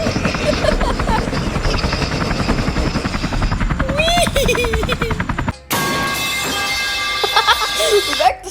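Steady whirring roar of thrusters on a player-built airplane in the Roblox game Build a Boat, a loud continuous droning hum that briefly cuts out then resumes with a higher whine, with voices chattering over it.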